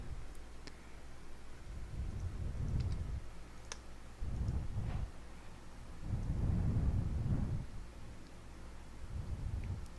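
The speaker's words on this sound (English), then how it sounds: "of course, it starts raining right when I start recording" Rain and thunder in a video game: a steady hiss of rainfall with several deep rolling thunder rumbles that swell and fade, plus a few sharp clicks, at a modest level and with no voices.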